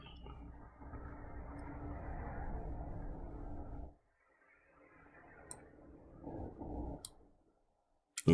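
Keyboard keys typed in quick, uneven bursts of soft clicks during online math homework, with a pause midway and a few sharper isolated taps near the end.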